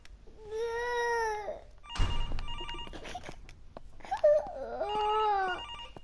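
Telephone ringing in the horror video game Infliction: two bursts of a warbling electronic ring separated by a clatter, with faint background noise between them.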